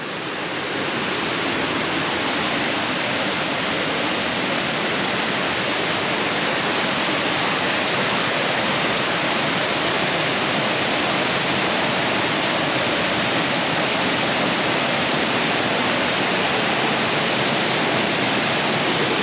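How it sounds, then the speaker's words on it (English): The waterfall at Hareshaw Linn in Northumberland pours in a loud, continuous roar of rushing water, heard up close and steady with no break, with no voices over it. "A waterfall."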